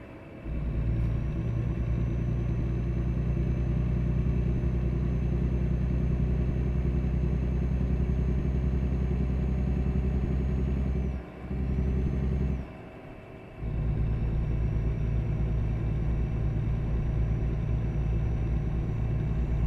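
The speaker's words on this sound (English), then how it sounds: "luckily the engine started back up." A truck engine idles steadily in American Truck Simulator, a loud constant rumble with a high whine that cuts out briefly twice before resuming.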